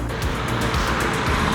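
Cars rushing past on a road beside a rider on a Lirpe R1 electric scooter, a loud, close, continuous roar of traffic and wind with no one speaking.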